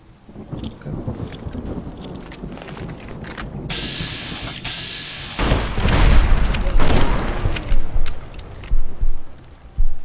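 In Fallout: New Vegas, explosions go off in the game: after a stretch of low rumbling and a brief high tone, heavy booming blasts arrive loud and close, followed by several more deep thuds toward the end.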